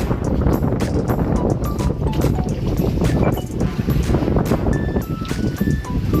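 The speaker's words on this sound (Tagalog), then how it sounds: "malakas yung hangin" Strong wind buffets a small boat on an island-hopping tour off El Nido, Palawan, a constant loud roar of gusts and water noise with faint voices underneath throughout.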